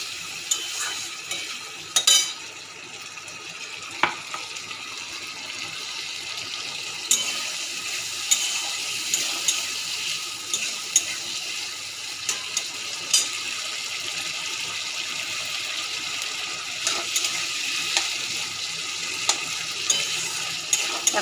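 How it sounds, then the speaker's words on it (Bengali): A spice paste of ground cumin, chili, ginger and slit green chilies fries in oil while being stirred, a steady soft sizzle with occasional louder scrape and spatter bursts, no talking. "মশলাটাকে ভালো করে কষিয়ে নেব"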